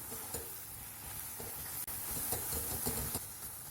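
Spiced Bengali-style deviled egg mixture with garam masala and salt cooking in a pan over medium heat, a soft, low, continuous sizzle with faint stirring ticks.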